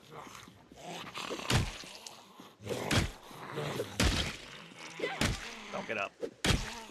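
Zombie battering a small fence in Cataclysm: Dark Days Ahead, a string of heavy thuds and thumps at uneven intervals, each a sharp broadband knock, with a brief line of speech in between.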